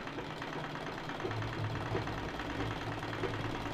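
A sewing machine runs steadily, stitching a zip onto a designer sling bag with a continuous mechanical whir and rhythmic hum that keeps an even level throughout, with no speech over it.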